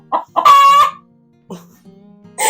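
An angry hen in a chicken coop lets out a loud, close, drawn-out squawk, followed by a few short, sharp clucks.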